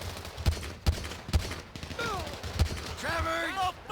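Gunfire in the video game GTA 5, a run of sharp shots at uneven intervals over a noisy game scene, with voices and electronic chirps around them.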